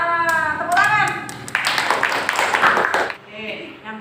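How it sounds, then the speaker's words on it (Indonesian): A class claps for a marble-rolling experiment in an Indonesian lesson: a short burst of hand clapping after a teacher's voice, with speech before and around it. "Nah, tepuk tangan."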